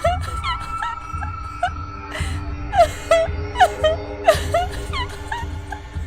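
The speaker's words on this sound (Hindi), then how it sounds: "अचानक रोने की आवाज और नुपुर की ध्वनि सुनाई दी" Woman crying in a Hindi cartoon story, a loud wavering wail rising and falling in repeated sobs alongside faint jingling anklet bells, close and continuous.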